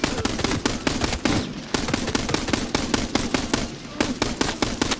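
Rapid automatic gunfire in an extraction shooter video game, loud and close, with sharp rhythmic bursts of shots broken by brief pauses, no voices over it.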